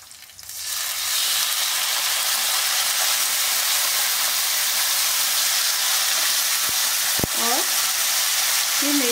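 Tomatoes are dropped into hot oil with browned garlic and chillies for methi dal, and a loud, steady sizzle swells up and holds, broken by a single clank of a utensil and a brief voice near the end.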